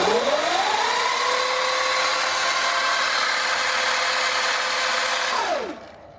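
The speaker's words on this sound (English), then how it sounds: "Boy, does that chain flop everywhere." KO Moto electric motor with its drive chain flopping about, spinning up to a high steady whine with a rattling chain underneath, holding for several seconds before the pitch falls away as it winds down.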